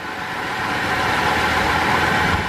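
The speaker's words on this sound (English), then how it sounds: "you can see the engine started to shake a hell of a lot more" A Holden VZ Alloytec engine idles roughly with a misfire, a close, continuous uneven rumble with the whole unit shaking, with no voices over it.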